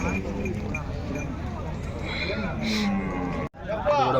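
Cows moo amid the busy Punganur cattle market, with people talking and murmuring around the animals and a brief dropout near the end.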